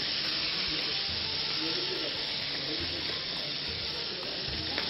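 Calamari and cubed shrimp frying in olive oil for Spanish paella, a steady, bright sizzle with a constant hiss and faint scraping of stirring underneath.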